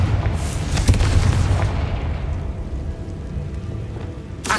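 Confringo blasting spell explosion in the Hogwarts Legacy video game: a loud, deep boom with rumbling debris that decays over a few seconds, then a sharp crack at the end.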